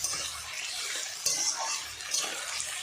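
A utensil stirs desi chicken pieces with spices frying in a pan, giving quiet scraping strokes and soft clinks at a slow, irregular rhythm, close up with no talking.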